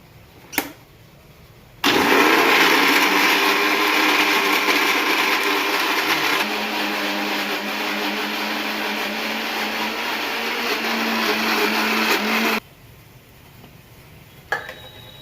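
A mixer grinder whirs loudly for about ten seconds as it grinds a green chutney with lemon juice, turmeric, salt and a little water, starting and stopping abruptly with faint clicks before and after.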